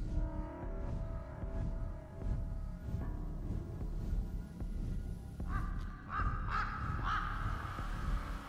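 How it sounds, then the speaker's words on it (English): Crows cawing in the video game Rise of Insanity VR, several harsh caws in uneven bursts, louder toward the end, over a low ambient background. "Hey, there's my crow buddies."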